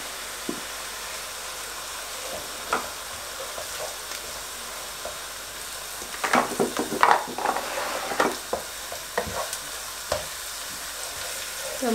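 Rendang spice paste of lemongrass, ginger, cardamom and candlenut sautéing in a pan, a soft steady sizzle with intermittent stirring scrapes that grow busier and louder midway.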